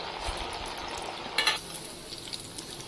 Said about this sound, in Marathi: ते असे झाऱ्यावर घ्यायचे आणि थोडेसे असे हलवायचे किंवा उडवायचे थोडे, म्हणजे ते एकमेकांना चिकटत नाही।